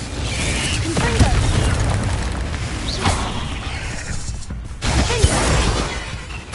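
Repeated Incendio fire spells cast in Hogwarts Legacy on PS4 burst out as whooshing, crackling blasts with sharp pops and mechanical clatter, several close loud hits spread across the clip.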